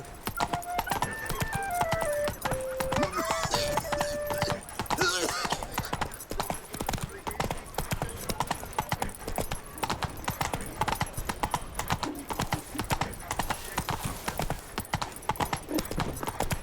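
A horse canters along in The Witcher 3, its steady clip-clop hoofbeats running throughout, with game music and brief voices drifting over the hooves.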